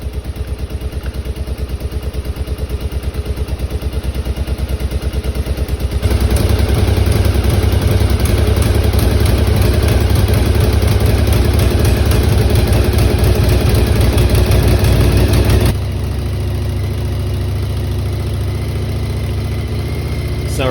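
Yamaha Virago XV920 motorcycle engine, about 40 years old, running on choke with a steady loud idle, lifting to a harder, busier run for several seconds before dropping back to idle.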